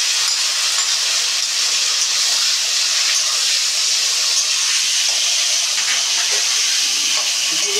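Ground cumin, ginger and green chilli pastes sizzle hard in a frying pan of fried potatoes, a loud, dense, continuous hiss with no pauses and no talking.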